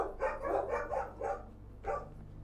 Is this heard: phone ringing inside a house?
no